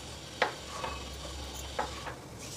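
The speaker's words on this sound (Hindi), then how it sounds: "सब्जियों के साथ मसालों को भी अच्छे से मिक्स कर लेते हैं।" Vegetables and spices get stirred in a pan over a faint low sizzle, with two soft scraping strokes of a spoon against the metal.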